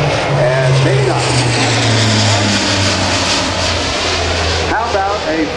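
A C-130J-30 Hercules turboprop banks into a shallow left turn over the field at a 2009 Air National Guard open house in Rhode Island, a loud, steady propeller drone with a throbbing low hum that holds throughout.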